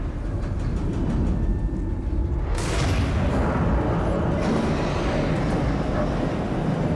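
Ship exploding in the video game Alien: Isolation, a sudden deep blast about midway that bursts out of a rumbling low drone and then fades into a sustained roaring aftermath.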